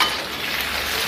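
Ghee sizzles in a hot pan as the base for a garlic sauce, a steady close hiss of frying fat with a faint clink, brief and alone without voices.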